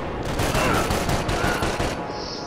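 Dense, rapid gunfire from the video game Max Payne 3, a loud continuous volley of overlapping shots that runs without a break for a couple of seconds.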